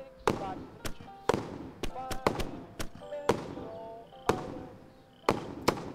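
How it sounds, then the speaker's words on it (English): A fireworks cake going off in the survival game Survive the Nights, with a rapid irregular string of sharp pops and crackles, some ringing briefly, loud and close with no talk. "set off some of these beautiful things, the fireworks. Now you have the fireworks cake."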